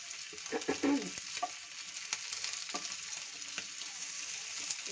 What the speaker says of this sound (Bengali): তো সবকটা চিকেনের পিসগুলোকে উল্টিয়ে দিচ্ছি